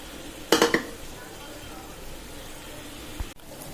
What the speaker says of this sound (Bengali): এবার চারিদিক দিয়ে ভালোভাবে নাড়িয়ে দিব।